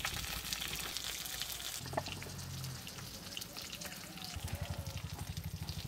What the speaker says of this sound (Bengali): এদিকে মাছগুলো ভাজা হয়ে গেছে, তুলে নেব।